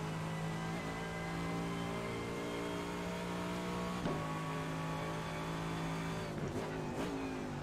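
GT3 race car engine in the iRacing video game at Watkins Glen, a loud steady drone holding pitch, dipping briefly near four seconds and shifting through gear changes near the end, with no talk.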